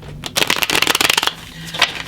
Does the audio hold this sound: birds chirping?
no